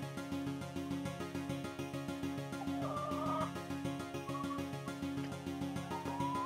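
Chickens cluck and call steadily in a farmyard, with several birds sounding close and continuous for a few seconds.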